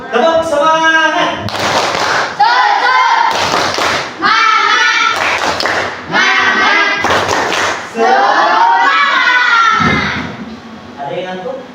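A group of children doing a rhythmic spirit clap (tepuk semangat), with bursts of claps and thumps between loud chanted voices in a steady, repeating pattern.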